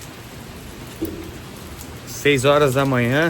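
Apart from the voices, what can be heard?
early morning rain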